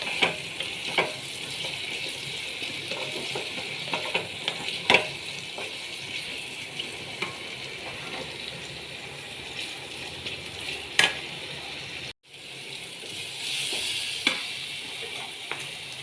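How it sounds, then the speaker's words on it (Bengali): Pumpkin curry sizzles and fries in a pan while being stirred, with a steady close crackle and occasional scraping clicks from the spoon, briefly interrupted by a short drop-out. "একটু তরকারিটা নেড়ে দিলাম।"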